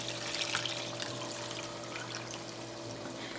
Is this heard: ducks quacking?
no